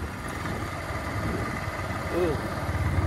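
A motorbike engine idles nearby with a steady low putter, under people talking, rising slightly in loudness near the end.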